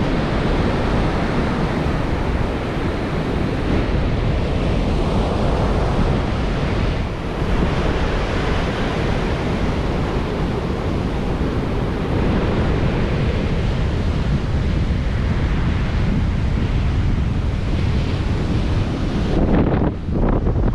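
Rough surf pounds against the Pensacola fishing pier on a red-flag day at Pensacola Beach, Florida, a loud continuous roar of crashing waves with heavy wind buffeting the microphone throughout.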